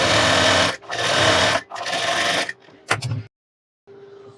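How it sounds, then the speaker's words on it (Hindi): Sewing machine running in bursts while stitching the side fitting seam of a blouse, three long loud runs of motor whir followed by short stops and a brief final stretch, with no talking. "और फिर आप अपनी साइड फिटिंग वाली सिलाई लगाएंगे, वो भी आप उसी तरीके से लगाएंगे।"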